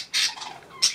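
A blue rooster gives two short, sharp squawks about a second apart, close and fairly loud.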